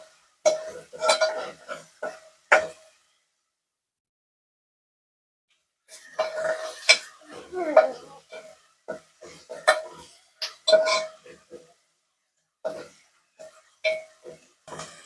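Ginger garlic paste being sautéed in a pan while chicken curry is cooked, a utensil scraping and clinking against the pan in short irregular bursts, with a long pause in the middle.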